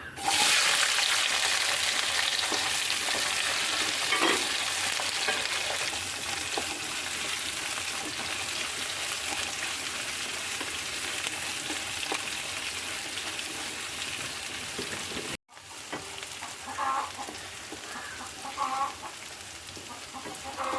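Onions frying in a pan for a Kerala-style onion curry, a loud, steady broadband sizzle running throughout with faint clinks of stirring, briefly dropping out near the end before resuming.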